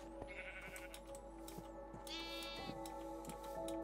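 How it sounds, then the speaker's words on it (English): A sheep in the Minecraft video game bleats two short wavering calls over a steady game background, with scattered ticking clicks in between. "Hello, sheep."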